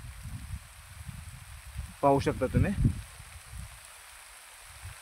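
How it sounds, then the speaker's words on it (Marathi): Rain falls over farmland in Marathwada as a soft, steady hiss and patter, with a brief stretch of speech in the middle. "एक चांगला पाऊस सुरू झालेला आहे।"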